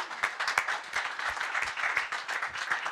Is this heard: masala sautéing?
no